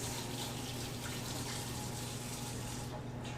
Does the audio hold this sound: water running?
yes